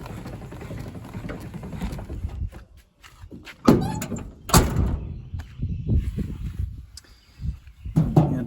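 Doors of a 1978 Ford F100 XLT pickup being worked: metallic clunks, latch clicks and two solid slams, close and loud, with rattling and handling noise in between.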